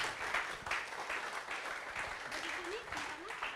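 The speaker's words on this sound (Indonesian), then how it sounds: "Boleh minta tepuk tangan sekali lagi yang lebih meriah buat Bu Wiwi." Seminar audience applauding indoors, a steady wash of clapping from many hands running throughout, fairly near, with voices talking over it.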